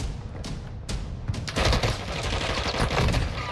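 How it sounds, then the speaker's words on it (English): A loud, dense fusillade of gunfire in Warzone: a few separate shots crack first, then rapid overlapping bursts and booms pile up into continuous firing. "Why is everybody shooting me through, like, freaking walls, man?"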